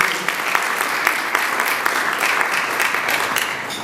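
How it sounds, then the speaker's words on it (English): Steady audience applause at an event honoring a U.S. ambassador to Ethiopia, dense, even clapping from a sizable crowd throughout, heard fairly close with no talk over it. "And Ted, we just want to all give you a special round of applause."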